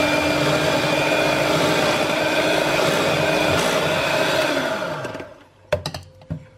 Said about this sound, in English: and we'll give that a whisk in.